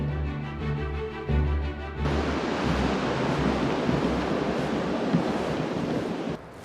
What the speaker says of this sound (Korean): 절벽 아래로는 높은 파도가 있는 대서양입니다.